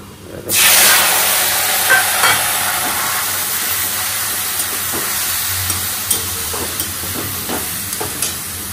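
Ash gourd with nigella seeds and dried chili hitting a hot pan, a loud sudden sizzle that settles into steady frying hiss with occasional stirring clinks, no talk.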